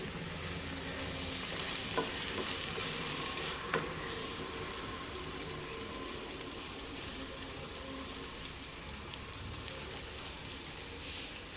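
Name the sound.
stirring food frying in a pan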